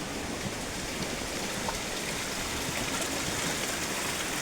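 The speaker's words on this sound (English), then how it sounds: "Another little mini trickle." A small waterfall trickles in a dark, wet Queensland rainforest near Killarney, giving a dense, even rush of running water that fills the scene without pause and with no voices.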